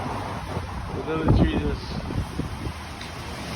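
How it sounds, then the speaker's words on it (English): Strong wind blowing through a downtown Seattle street in Belltown, a steady rushing roar with gusty swells, under a voice talking. "Wind is blowing hard like it's like a tornado around here today."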